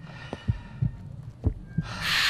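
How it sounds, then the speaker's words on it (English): Heartbeat pounding in a Russian psychological horror video game: four low, thudding beats spaced about half a second apart, close and muffled, with a faint hum, then a rising hiss at the end. "Feel your heart pounding."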